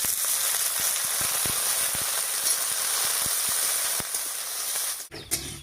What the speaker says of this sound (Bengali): পেঁয়াজ, রসুন, কাঁচা লঙ্কা আর আলু একসঙ্গে করে ভাজা হয়ে যাবে